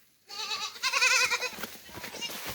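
A goat on a small farm gives one loud, quavering bleat up close, followed by quieter shuffling and softer sounds.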